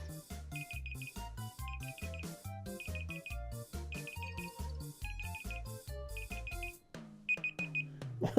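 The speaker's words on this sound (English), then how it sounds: "it was a Google timer I set when I was making my noodles" A phone's Google timer going off, a repeated pattern of bright electronic beeps over a rhythmic game music loop, fairly quiet, stopping near the end.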